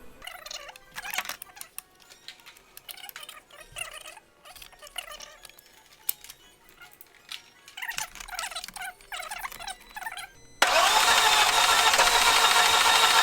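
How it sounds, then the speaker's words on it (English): A 2004 Volkswagen Passat 1.8 Turbo with a no-start fault cranks over without firing, giving a rough, uneven churning in repeated bursts for about ten seconds, then a loud steady broadband roar takes over. "The way this motor turns and it's cranking, to me it sounds like there's no compression."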